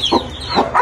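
Chickens and chicks cluck close by in a few quick, loud bursts with soft cheeping between them.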